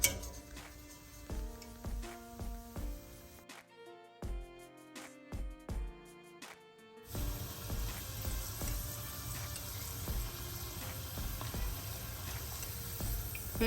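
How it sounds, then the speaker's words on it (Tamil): Cashews deep-frying in hot oil for a potato mixture snack, opening with light metallic clinks and taps of a utensil, then a steady loud sizzle that fills the rest of the time. "அடுத்ததாக இந்த காஜுவை பொரிச்சு எடுக்க போகிறேன்."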